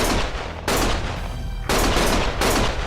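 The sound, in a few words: gunfire in Lost Judgment video game cutscene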